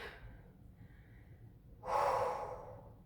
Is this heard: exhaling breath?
yes